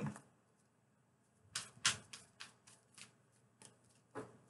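Tarot cards are shuffled in a quick riffle, with a few sharp flutters and soft taps, fairly close and quiet with no talking.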